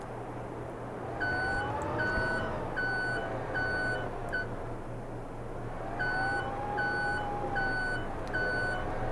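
A forklift in Farming Simulator 22 drives with a steady low engine hum while its reversing alarm beeps in a regular rhythm, clear and continuous, with no talking.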